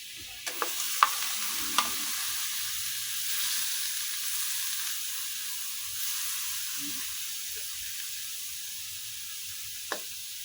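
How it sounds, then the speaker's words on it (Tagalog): Meat sautéing in a pan for Filipino pinakbet gives a soft continuous sizzle, broken by a few sharp clinks of a spoon against the pan early on and one near the end. No one speaks. "Lutuin natin yung karne guys. Luto tayong ginisang pinakbet."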